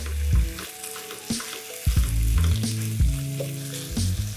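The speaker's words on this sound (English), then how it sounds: "I'm gonna put the sausage down and I'm just gonna spread it out" Coarse-ground, fatty sausage spread flat in a non-stick pan sizzles and fries steadily as it browns, with a few louder bursts of crackle and no talking.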